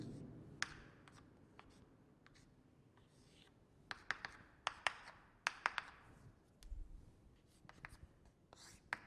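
Writing on a board in a quiet room: faint scratching strokes, sparse at first, then a denser burst of quick taps and scrapes toward the end.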